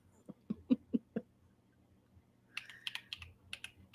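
Sharp, irregular clicks of a computer keyboard being typed on, a quick burst followed by a pause, then lighter rapid tapping, close and fairly quiet.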